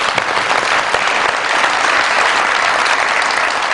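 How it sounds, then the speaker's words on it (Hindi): A studio audience on a comedy talk show breaks into loud, sustained applause, dense and continuous clapping filling the room at a steady level throughout. "बहुत सारी तालियां"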